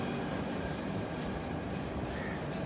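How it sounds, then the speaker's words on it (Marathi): A Pandharpur–Nizamabad passenger train at Chakur railway station gives off a steady, moderately loud rumble and hiss of rolling railcars. The sound runs without a break and no one speaks. "पंढरपूर निजामाबाद ट्रेन आहे."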